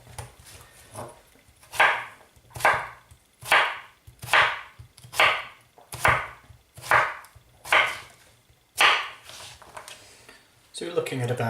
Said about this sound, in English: I'm just going to cut them up very coarsely